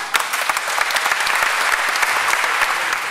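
Dense, loud applause from a crowd at an event held at Villa Bruno, many hands clapping in a steady unbroken wash.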